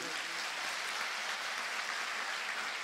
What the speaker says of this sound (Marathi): ज्यांनी बहुजन समाज पक्षामध्ये जाहीरपणे प्रवेश केला त्या सर्व बांधवांनी भगिनीचं एकदा जोरदार टाळ्या वाजवून